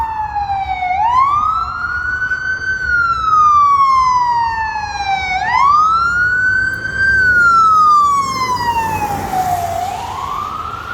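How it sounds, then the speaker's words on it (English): An ambulance siren wails in long rising and falling sweeps, loud and steady as it passes in the street, with no voices over it. "I think this ambulance is part of the experience"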